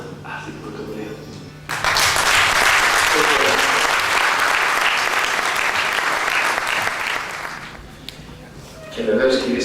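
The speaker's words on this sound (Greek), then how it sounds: "Θα σας πάρω όμως να χειροκροτήσετε θερμά αυτή την πρωτοβουλία." An audience at a Greek community event applauds warmly in a dense, sustained burst lasting about six seconds. Someone speaks before and after the clapping.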